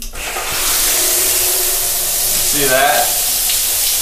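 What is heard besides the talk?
shower spraying water in a Singapore bathroom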